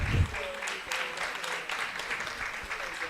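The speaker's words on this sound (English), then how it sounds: "Est-ce qu'on peut les applaudir," Audience applause for speakers at an international symposium on women in democracy in Dakar, a steady muffled clapping wash in a hall, with a low thump at the start.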